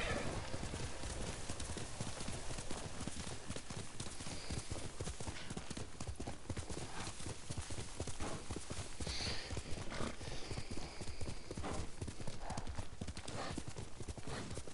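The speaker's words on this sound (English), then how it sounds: "Good horse." Horse hooves clip-clop at a steady trot in Ghost of Tsushima, loud and continuous throughout, with a brief whinny partway through and faint background game ambience.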